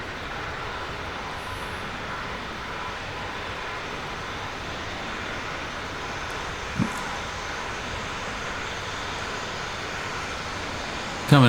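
A BAe Hawk jet accelerates along the east-west runway at Cranwell, heard as a steady, broad engine roar from inside the aircraft that holds level for the whole stretch, with one brief knock partway through.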